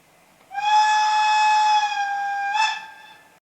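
A Märklin model locomotive's sound function gives a loud, sustained steam-style whistle lasting about three seconds, with a brief bump in tone near the end, clear and alone.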